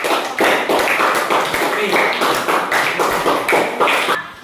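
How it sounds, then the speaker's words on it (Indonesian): A classroom of students claps together in a brisk, rhythmic pattern of close, loud hand claps repeating in steady bursts, with voices talking over the clapping. "Ya, tepuk tangan."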